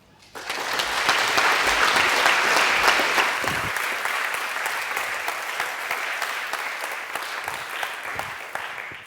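Audience applause welcoming a speaker onto a stage: dense, steady clapping from a large crowd begins abruptly, swells and holds strong, then gradually thins out over about nine seconds.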